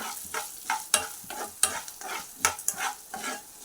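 Urad dal sizzles as it fries in oil for a fenugreek-leaf chutney, with a steady close crackle and a few sharper bursts and scrapes as the pan is stirred, no voices.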